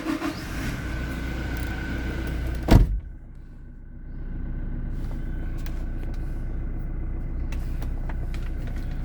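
A pre-owned Toyota Innova Crysta with about 131,000 km on it: a sharp mechanical clunk, a brief dip, then the engine catches and settles into a steady, low idle rumble heard from close by.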